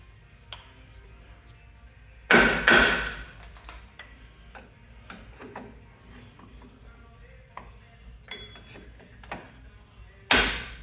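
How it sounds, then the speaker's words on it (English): A hammer strikes old car parts during a teardown: a few loud, sharp metallic blows separated by long pauses, with quieter knocks and clinks in between. "Working on old crap, a hammer is always a necessity."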